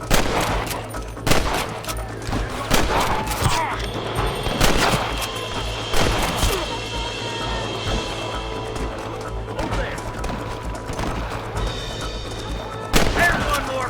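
Video game gunfire shootout in Red Dead Redemption, with repeated sharp shots and bursts scattered across the scene over a steady background rumble, plus some talk in the mix.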